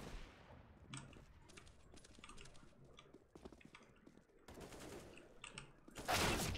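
Gunfire in CS:GO, the competitive shooter, with several sharp shots and short bursts scattered through the clip, some close and loud, others fainter, over low background game noise.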